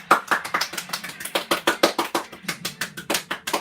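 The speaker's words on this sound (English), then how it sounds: "Everyone's round of applause." Small group clapping hands in a quick, fairly steady rhythm, close and moderately loud.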